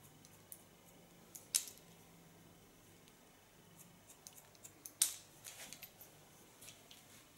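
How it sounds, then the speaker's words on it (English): Scissors point-cutting hair in a salon, with two crisp, close snips standing out against an otherwise quiet, faint background. "Using the ultra fine point cut again."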